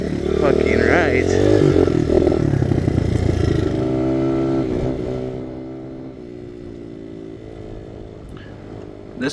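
A Honda XR 100 pit bike with a stock 100cc engine runs loud and close. It revs up strongly, then eases back to a quieter idle while someone talks over it.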